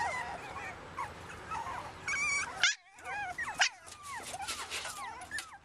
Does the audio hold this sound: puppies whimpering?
yes